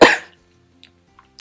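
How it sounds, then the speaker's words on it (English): One harsh, close cough from a person bursts out at the start, then fades into near silence broken by a few faint small noises. "I also haven't been coughing that much today, apart from now that I'm talking"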